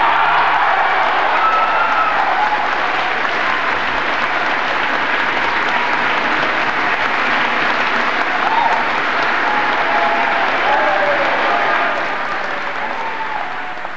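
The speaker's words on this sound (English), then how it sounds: "she got three rounds of applause, three separate rounds of applause here in the studio of The Late Late Show" A studio audience at The Late Late Show in 1997 applauds as Mary McAleese is declared President of Ireland, sustained loud clapping with faint cheers and a voice or two beneath, fading slightly at the end.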